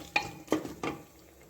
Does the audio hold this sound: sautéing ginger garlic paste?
yes